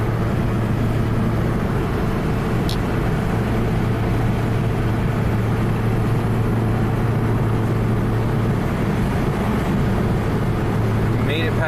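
A Honda Civic drives up a climb after a head gasket repair, its engine a steady low drone with road noise that holds throughout, near and even in level.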